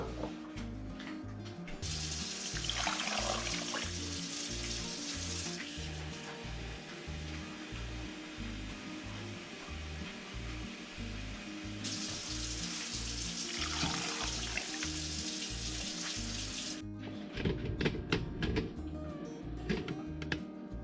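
Tap water runs steadily into a pot of sliced potatoes for a dog's birthday cake, a loud continuous splash and hiss that starts, pauses and resumes, over a rhythmic thumping music bed.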